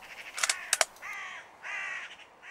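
Crows cawing in the countryside near a fence line, a quick burst of several harsh caws followed by two longer drawn-out calls, fairly close and clear with no talk.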